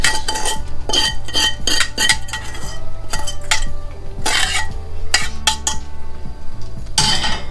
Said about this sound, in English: we're gonna take our ground sausage and we're gonna bring it here and put it in with those pinto beans